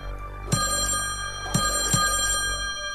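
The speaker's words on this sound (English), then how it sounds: "You won't go anywhere near the phone now." An old-fashioned telephone bell in the video game Slayaway Camp rings with a steady shrill tone, and three short ring strikes stand out, close and moderately loud over a low hum.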